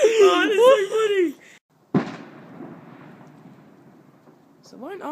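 A single sharp Bonfire Night firework bang cracks out after a stretch of talking, followed by a crackling, fizzing tail that fades over a few seconds before voices return.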